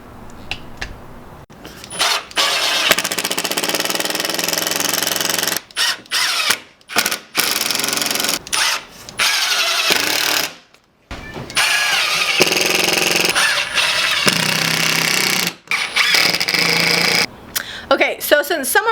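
A power drill with a 3/8-inch countersink bit pre-drills holes for a farmhouse-style desk, its motor whirring in repeated bursts broken by short pauses, with occasional talk between.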